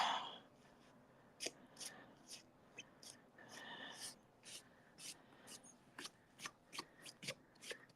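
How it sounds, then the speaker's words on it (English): Paper is pulled out and handled at a sewing machine during a holiday craft project, making soft, close crinkles and crisp rustling taps that grow quicker and denser toward the end. "I'm just getting that paper out."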